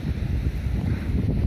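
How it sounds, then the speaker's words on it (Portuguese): Strong wind gusting across a seaside jetty at the Camacho breakwater construction site, a steady heavy low rumble with buffeting against the microphone and a faint high whine, continuous and close, with no voices. "Opa, o vento está ficando meio forte."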